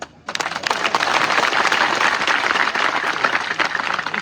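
Loud, dense applause from a large audience at an outdoor political rally in Bangana, starting abruptly and sustaining as a steady roar of clapping throughout.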